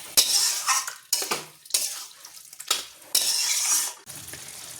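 Chicken curry being stirred and dry-fried in a pot, loud bursts of sizzling and spoon scraping against metal, several strokes with short quieter gaps between, close up, no talking.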